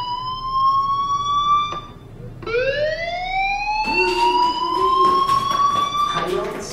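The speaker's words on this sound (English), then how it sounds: "Hey, do you hear that fire alarm?" A school fire alarm rings in the video game Life Is Strange, a loud electronic siren-like tone that rises in pitch, cuts off briefly, then resumes with rising sweeps while other game sounds overlap.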